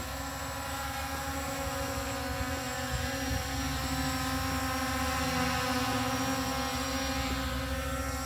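A cheap budget camera drone without obstacle-avoidance sensors flies outdoors, its motors giving a steady, continuous high-pitched buzzing whine that holds at an even level throughout, with no voices.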